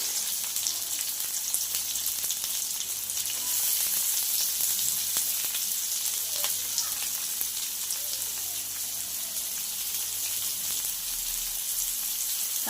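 Chili and onion fry in hot oil in a pan for an okra dish, giving a steady, dense sizzle and crackle throughout, close and fairly loud with no talking.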